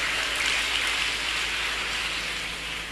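An audience at a public debate gives dense, steady applause, a continuous wash of clapping that holds level and fades slightly toward the end.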